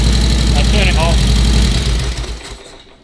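A vintage Harley-Davidson motorcycle engine idles with a loud, low, throbbing rumble close by, then winds down and shuts off near the end while someone talks over it.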